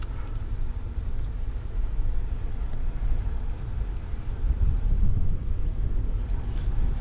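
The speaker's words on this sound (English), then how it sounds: "So I'm driving on Chantilly main road, guys." A car driving along Chantilly Main Road in Manchester, Jamaica, heard as a steady low engine and road rumble with wind buffeting the microphone throughout, no voices.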